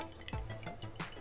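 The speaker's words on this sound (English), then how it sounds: "you can wring it out." Water drips and trickles from a wrung-out expanded compressed towel tablet, soft splashes and patters close by over a steady low background.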